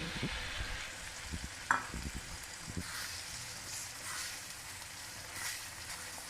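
Ground paste of green chilies fries in hot oil, a soft, quiet sizzle with a few scattered spoon knocks and one sharper scrape near the start, then a gentle, even crackle.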